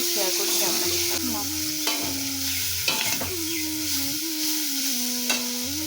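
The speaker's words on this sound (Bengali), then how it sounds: "মা চিংড়ি মাছটা দিয়ে দিল, দিয়ে হলুদটা দিল। এবার একটু ভাজা ভাজা হোক" Prawns fry with turmeric in oil, a continuous close hiss with occasional louder spatters and stirring scrapes, steady and moderately quiet, under a low humming tone, with no talking.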